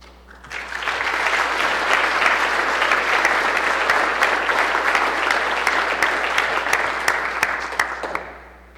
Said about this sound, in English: let's give a warm round of applause as we recognize their extraordinary commitment